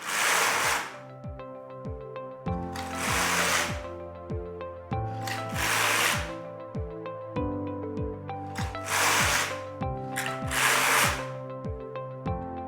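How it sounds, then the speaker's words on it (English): Carriage of a Singer Solo hand knitting machine sliding across the needle bed as rows are knit: five loud, rasping sweeps about every two to three seconds, each a scraping whoosh over a steady clatter, with no voices. "So let's knit a few rows."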